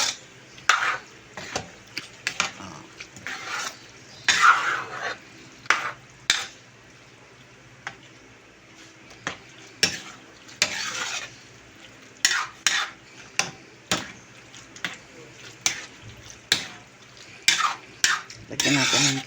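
Macaroni and Hungarian hotdog being stirred in a pan, with repeated scraping utensil strokes against metal in an uneven rhythm over a soft background sizzle, close and fairly loud.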